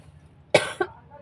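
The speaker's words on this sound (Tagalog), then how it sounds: "Ubo ako ng ubo." Two quick coughs from one person close by, a strong first cough followed by a shorter, softer second one, with near silence around them.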